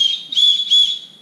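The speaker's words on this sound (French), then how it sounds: "Et vous avez même aussi le petit sifflet. On va tester s'il fonctionne." A small plastic whistle on a Decathlon trail running vest blown in three short shrill blasts, close and loud, with no talk.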